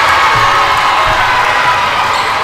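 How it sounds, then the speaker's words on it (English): A basketball crowd at Sperling roars in loud, sustained cheering right after a Tigers three-pointer by Olivia Hess, the dense wall of voices and whoops filling the arena with no break. "Crowd getting back into it."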